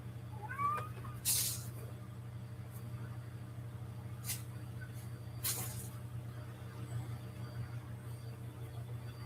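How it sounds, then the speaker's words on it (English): A cat meows softly a couple of times against a steady low hum, with a few brief louder noises breaking in. "Yeah, cat meowing."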